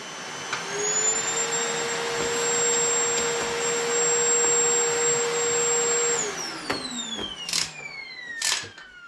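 A Milwaukee M18 FUEL 3-in-1 cordless backpack vacuum runs with a loud, steady high-pitched motor whine for several seconds, then spins down as it shuts off, followed by a few clattering knocks.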